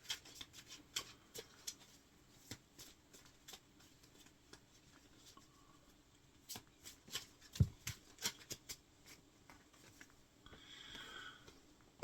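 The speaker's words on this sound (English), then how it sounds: "Let's pull some tarot" Tarot cards shuffled by hand, with a quiet run of crisp riffles and soft slaps close by, thickening into a denser flutter near the end, and no voices.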